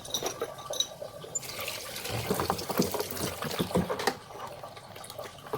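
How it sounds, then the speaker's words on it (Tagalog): Boiling water poured from a container over raw crabs being cleaned, a continuous splashing gush with trickling and spattering, fairly close and moderately loud. "buhusan natin ng pinakulong tubig"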